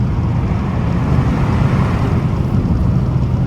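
Engine of a 2025 Kia K5 GT running at idle, heard from under the open hood as a steady, dense low rumble and broadband hum, loud and close, constant throughout with no talk.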